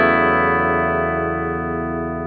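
A single clean electric guitar chord rings out through a PRS Sonzera 20-watt combo amp with bright shimmer and light reverb, slowly fading over a couple of seconds.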